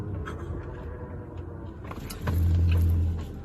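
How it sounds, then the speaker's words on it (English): Road traffic passes on a town street as a steady background hum, swelling into a deep, close vehicle rumble that rises and fades over about a second. "Right now I'm just waiting for traffic."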